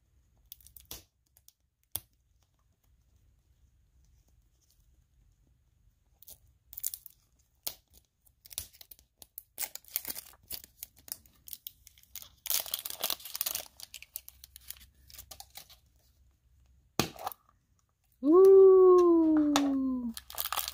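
Crinkly plastic wrapping torn and crumpled off a surprise toy egg in close bursts of rustling, with quiet pauses between, then a sliding vocal exclamation at the end.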